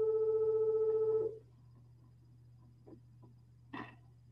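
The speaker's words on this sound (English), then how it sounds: "my phone's ringing behind me" A phone rings with a steady electronic tone for just over a second, fairly close, then cuts off into quiet room noise with a couple of faint knocks.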